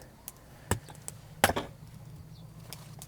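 A knife chops vegetables for a salad of cucumber, green onion, pepper and tomato outdoors, giving a few sharp, separate cuts against a board over a low background hum.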